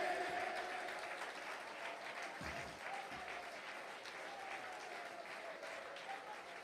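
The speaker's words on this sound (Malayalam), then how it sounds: "കൈയടിക്കുന്ന നേരെ കൈയടിക്ക്" A congregation applauds during a Christian sermon in a church, with continuous, even clapping that stays fairly distant and faint throughout.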